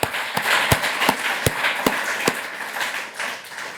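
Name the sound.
conference audience applause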